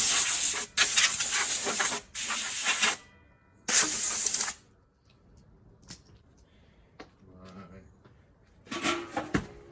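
Compressed air blasts dust off parts of an older Blackstone pizza oven during final assembly, with several loud bursts of hiss, each about a second long, followed by quieter handling sounds.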